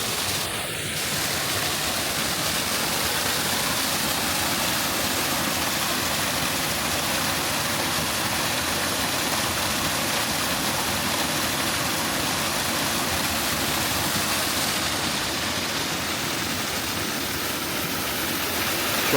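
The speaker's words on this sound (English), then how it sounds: "You can probably hear the water's running quite strong." A strong, steady rush of running water fills the whole recording, a dense broadband roar like a fast stream heard up close, with no voices.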